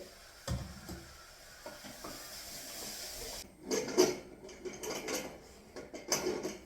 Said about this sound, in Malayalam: നമുക്കിനി ബീഫ് തട്ടി കൊടുക്കാം